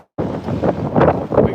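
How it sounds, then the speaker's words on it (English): Wind on a breezy day buffeting the microphone in loud, uneven gusts that swell and fade over a second or so, with no voices. "Very breezy and windy today."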